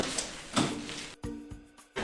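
A balcony door is shut during a thunderstorm, with a few sharp knocks and thuds close by at the end over a steady background wash.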